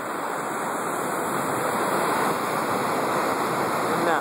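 Water rushes over a dam in Seymour, Indiana, a loud, steady broadband roar that continues without a break.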